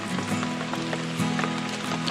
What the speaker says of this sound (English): I'm going to be sitting out here in the rain for another couple hours